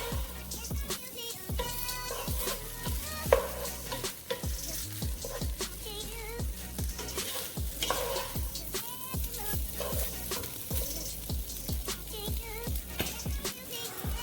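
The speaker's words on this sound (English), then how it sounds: "we're now going in to give this a nice little stir to get everything," Shrimp and ham fried rice is stirred in a pot, with a steady close sizzle and repeated scraping strokes of a spoon through the rice continuing throughout, with no voices.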